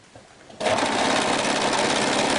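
A sewing machine starts up abruptly and runs at a loud, steady whir, stitching a kimono seam, after a brief quieter moment of handling.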